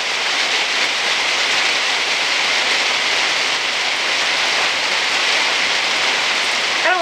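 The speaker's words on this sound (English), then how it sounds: "You can see behind me, it's raining, and it's been raining all day." Steady rain falling outdoors on a wet day, a dense, even hiss of drops that stays loud and constant throughout with no voices.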